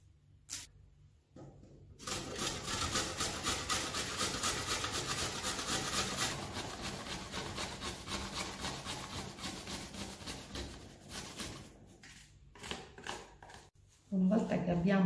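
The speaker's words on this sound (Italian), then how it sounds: "Iniziamo a tagliare finemente le zucchine." A knife slices zucchini finely in a rapid, steady run of close cutting strokes lasting about ten seconds, framed by quieter moments before and after.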